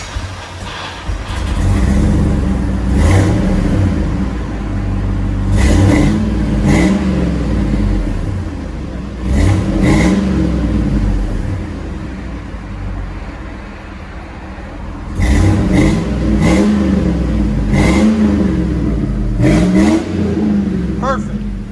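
A 2002 Chevy Suburban 5.3L V8 with a Flowmaster Delta 40 series exhaust revs repeatedly in loud, close bursts, rising and falling several times over a steady rumbling idle, with brief talk mixed in.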